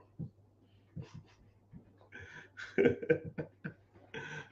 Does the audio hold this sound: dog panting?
yes